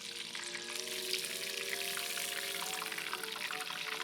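Fish sticks frying in hot oil around 350 degrees, a dense continuous crackle and sizzle with a steady bubbling hiss throughout, close and even in level, with no talk.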